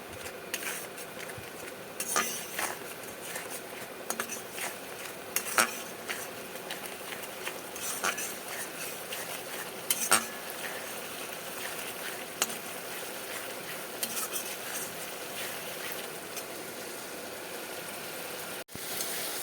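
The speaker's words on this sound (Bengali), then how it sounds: "এটা আমি খুব ভালো করে কষবো" Spice paste with salt being sautéed in a pan for a Bengali rui fish kofta curry: a steady, faint hissing sizzle punctuated by occasional metallic clinks and scrapes of a spoon against the pan, with no talking.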